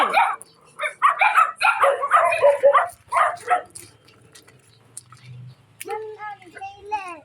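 Several dogs bark in rapid, excited bursts while chasing, close and loud, with yips and a whimper. A voice and other talk sound over the barking, and a vehicle engine hums faintly underneath.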